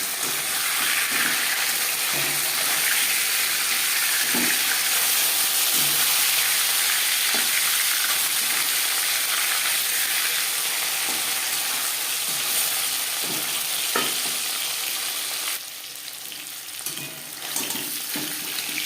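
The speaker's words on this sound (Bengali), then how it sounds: "মিষ্টি জলের মাছ একটা সাইজ ভাজা হয়ে গেলে অপর সাইজটা উল্টে দেবো" Freshwater kalbasu fish frying in a pan gives off a steady, loud sizzle with occasional soft taps of utensils, continuing without talk until the hiss drops slightly near the end.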